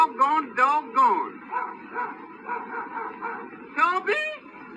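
A voice imitates a small dog, giving a run of yipping barks and whimpering howls, close and clear, in an old 1923 recording.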